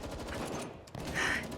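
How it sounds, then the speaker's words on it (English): Rapid gunfire from the GFL2 video game crackles in a dense, continuous burst across the short clip, loud and close, with no voices. "The sounds of gunfire"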